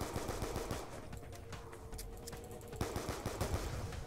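Rapid gunfire from Call of Duty: Black Ops 2 Zombies, a steady stream of quiet shots in a dense game mix with no clear pauses.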